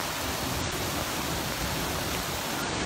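Floodwater from a creek overflowing during Hurricane Florence rushes fast into a forest, making a dense, steady roar of turbulent water that stays loud and unbroken.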